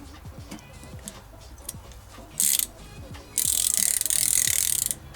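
Ratchet wrench from a Stanley limited edition 78-piece socket set clicking in quick bursts of pawl ticks, close and fairly quiet, with a couple of louder bright rattles.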